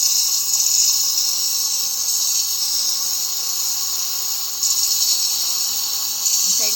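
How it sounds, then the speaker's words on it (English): A steam wand on an espresso machine steams a small jug of milk, giving a steady, loud airy hiss that runs unbroken with slight surges, close and alone with no talk. "and then you can steam your milk."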